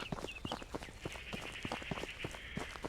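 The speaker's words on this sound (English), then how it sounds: "Now I hear a footstep." Footsteps thud at a regular walking pace in The Beast Inside horror video game, soft and fairly quiet under a faint high ambient whine.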